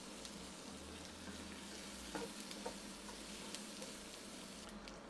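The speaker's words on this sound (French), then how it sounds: "Et je vais le cuire à sec, comme pour un risotto en fait, dans l'huile avec les légumes pendant une minute seulement" Rice toasting dry in hot oil with vegetables, risotto-style, for Hoppin John gives a steady, faint sizzle with soft stirring scrapes, no voices.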